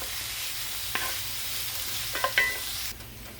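Onions frying in a pan with a continuous, even sizzle, close by, with a few light clicks of a utensil against the pan and no voices.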